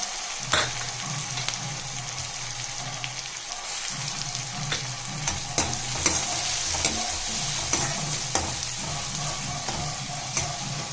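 Sliced onion and crushed garlic sauté in hot oil with a steady, close sizzle, punctuated by frequent clicks and scrapes of a stirring spoon against the pan.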